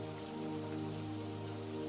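Rain falls steadily at night, a soft, continuous patter with an even hiss and no voices.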